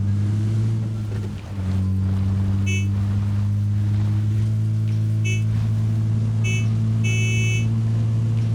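A car driven in the PUBG video game gives a loud, steady engine drone that holds for the whole stretch, with brief high electronic tones cutting in now and then.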